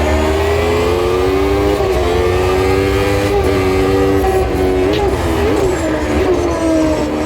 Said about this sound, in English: Changing down rapidly as fast as I can do it from the 6th to the 2nd gear.